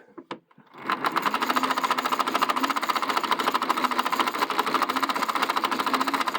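A hand-cranked Edison 35mm movie camera with a Maltese cross intermittent mechanism starts up after a few clicks. It settles into a loud, fast, steady mechanical clatter that runs continuously and close to the listener.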